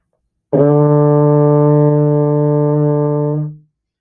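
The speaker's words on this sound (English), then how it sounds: "this is D on the baritone" A single sustained D on a baritone horn, held steadily for about three seconds before fading out, loud and alone with no talk.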